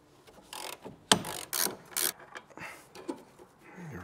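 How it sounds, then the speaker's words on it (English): Ratchet clicking while unbolting a sway bar link on an Alpina B7, heard as several close bursts of ratcheting and metallic rasps with short pauses between strokes. "Now we're gonna unbolt the sway bar link."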